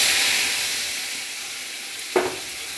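Tomato, cashew and green chili paste frying in a pan, a soft steady sizzle with one brief scrape of a spoon near the end.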